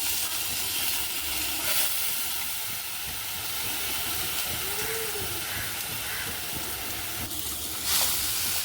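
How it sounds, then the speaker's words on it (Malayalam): Ground onion and garlic paste hitting a hot pan for a fish fry, giving a loud, steady hissing sizzle that carries on without break, with a few faint clinks over it. "നമ്മൾ അരച്ച് വെച്ചിരിക്കുന്ന ഉള്ളിയും വെളുത്തുള്ളിയും അതിൻ്റെ പേസ്റ്റ് നമുക്ക് ഈ ചട്ടിയിലോട്ട് നമുക്ക് തട്ടാം"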